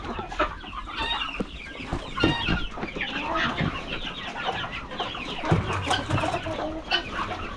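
Farmyard chickens cluck and mutter continuously at close range, several birds overlapping in a busy, uneven chorus with no talk over them.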